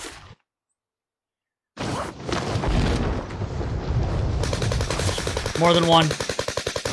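Heavy gunfire and explosions in Warzone: bursts of automatic weapon fire and blasts crowd the mix after a brief silence, with a rapid rhythmic volley near the end, while several players talk over the action.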